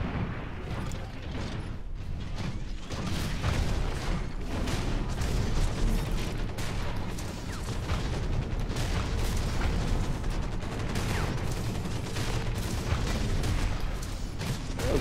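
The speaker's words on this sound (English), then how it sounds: "Hawken cannons are pretty badass now" Heavy rumbling mech cannon blasts and booming impacts from a Hawken deathmatch battle, dense and loud, with mechanical clanks running continuously underneath.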